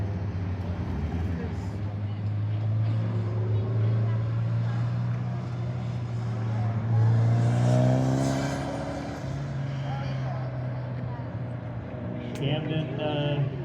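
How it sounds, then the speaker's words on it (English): A Mitsubishi Eclipse GSX Spyder with an AWD swap runs an autocross course, its engine a steady droning hum that rises and falls with acceleration under continuous commentary from an announcer. "Camden Schragle coming in next in the Mitsubishi"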